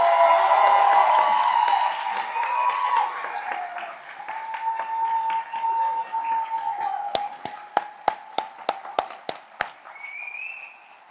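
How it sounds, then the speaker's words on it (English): A large audience at a nursing and allied health graduates' pinning ceremony gives steady applause that fades over several seconds, followed by a few separate sharp claps near the end. "Please give them another round of applause."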